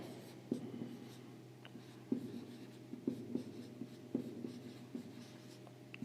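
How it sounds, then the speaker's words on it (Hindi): Pen or chalk writing a figure by hand during a microprocessor lecture, a steady run of scratchy strokes with sharper taps every second or so, close but faint, no talk. "फिगर डाल के इस तरीके से हम लोग लिख सकते हैं वॉन न्यूमन आर्किटेक्चर।"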